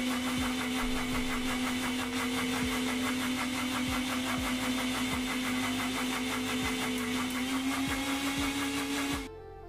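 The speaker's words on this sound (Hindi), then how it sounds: "अब इसका कैप लगा के अब इसको करेंगे हम ब्लेंड" A blender whirs a ginger smoothie in one loud, steady motor drone with a regular ticking pulse, running alone for about nine seconds before cutting off abruptly.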